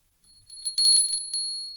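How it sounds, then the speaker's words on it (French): A small bell rings to mark the end of the first part of a poetry podcast, several quick bright tinkling strikes close by and clear, leaving a thin lingering ring. "vous entendez la petite cloche"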